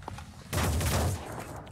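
A turret fires a rapid burst in the Phoenix Point video game, a dense, loud rattle lasting about half a second before dropping back to a low hum.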